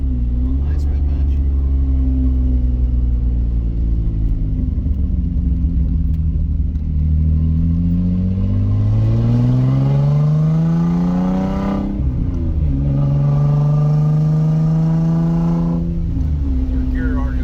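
Nissan 300ZX project car engine heard from inside while driving: a loud steady rumble that climbs in pitch through two gears, dropping at a shift, with a speaking voice faintly under it.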